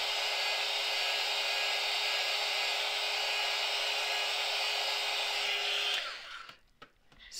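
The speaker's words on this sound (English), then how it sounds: "I'm just going to heat this up with the heat gun just to dry it off a little bit quicker." A heat gun blows steadily and loudly while drying a polymer clay pendant, a constant airy whoosh that cuts off near the end, leaving a few faint handling sounds.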